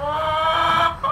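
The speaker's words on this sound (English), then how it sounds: "There's a chicken complaining." A chicken clucks close by, one short complaining call with a harmonic tone over a quiet farmyard, and no talking.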